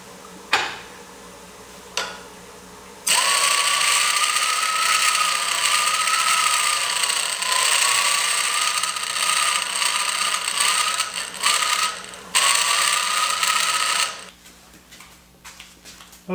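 Wood lathe spinning an embellished bowl, a loud steady whirring hum with a gliding whine as the speed shifts, briefly dipping before running on and then winding down to near quiet.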